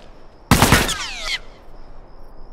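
Rifle gunfire in the Factions multiplayer game, a single loud close burst of rapid shots lasting under a second, then a brief ringing tail before quiet.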